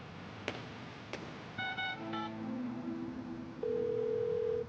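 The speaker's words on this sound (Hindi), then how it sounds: "तुम एम्बुलेंस को फोन करो दिलबर।" A few sharp clicks, then a quick series of dialing tones, followed by a steady, loud dial tone that holds to the end.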